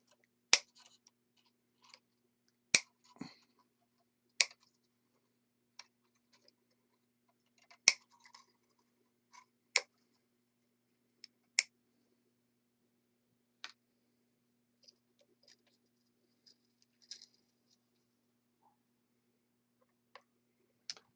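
Electric guitar strings are snipped one at a time with a cutter, sharp isolated clicks spaced a couple of seconds apart over near silence, with faint handling noises between cuts.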